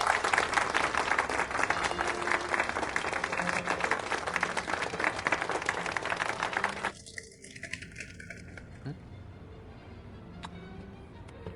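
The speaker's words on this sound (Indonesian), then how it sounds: "tepuk tangan yang meriah" Guests at a dance gala applaud loudly for the opening dance, dense clapping filling the first seven seconds before cutting off abruptly, followed by quieter room noise and light rustling.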